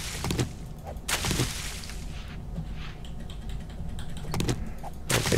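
Typing on a computer keyboard that is not fully mechanical, heard during 7 Days to Die gameplay: a few clusters of sharp key clacks over a steady background hum, with no talking.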